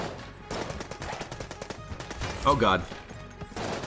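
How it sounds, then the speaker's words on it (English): Machine pistol fire in the bullet-hell game Enter the Gungeon comes as a rapid run of light, evenly spaced shots with game effects mixed in, and a man briefly exclaims. "Blooper, machine pistol."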